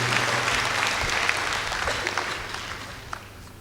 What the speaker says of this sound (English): please give a big round of applause to you and to me